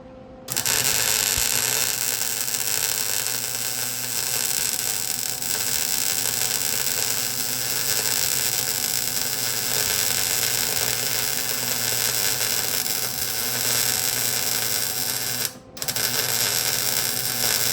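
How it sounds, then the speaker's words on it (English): A patch panel being welded onto the rusty frame of a Ford F150, a loud, constant electric buzz and crackle close by that runs almost nonstop, cutting out briefly once, with no speech. "Getting the first patch welded in."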